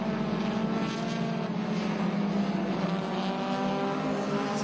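Vintage race cars in an SVRA vintage race at Portland, engines droning steadily in a continuous loud roar with no breaks, a dense layered rumble of several cars running together.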